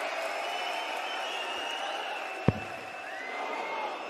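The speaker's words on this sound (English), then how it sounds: "crowd are showing where their allegiances are" A crowd at the 2024 European Darts Grand Prix cheers and applauds in a continuous roar of clapping and voices, with one sharp thud partway through.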